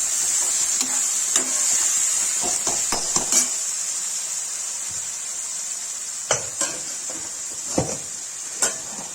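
Turmeric and red chili are stirred into chole masala in a pan over a steady hiss of sizzling oil, with a spoon knocking and scraping against the metal several times, loud and close.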